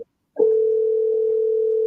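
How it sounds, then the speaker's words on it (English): An outgoing telephone call rings back with a steady, unbroken electronic tone that starts sharply and holds loud and clear alone to the end. "It takes him a while to answer his phone too."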